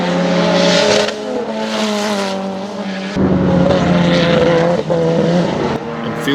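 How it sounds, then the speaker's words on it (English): A Toyota Celica Turbo race car at Baskerville circuit in Tasmania roars past close by, a loud sustained engine note with a gear change partway through, and no talking over it. "tough competition coming from Lee Forrest in his Celica Turbo"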